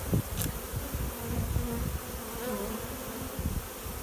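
A swarm of honeybees drones in a dense, continuous buzz close by, with steady hum layers and occasional louder passes of individual bees near the microphone, no voices present.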